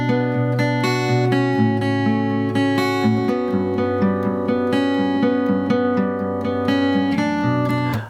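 Acoustic guitar plays the picked riff from the verse and intro of a song, bright and close. Notes move steadily over ringing sustained bass strings, alone without any talking.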